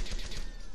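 A multi-laser weapon fires in Fallout 3 as one short, dense burst of crackling energy that fills the moment without any talking.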